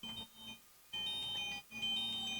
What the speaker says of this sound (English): Put OK, and it start vibrating and blinking, so you can find your watch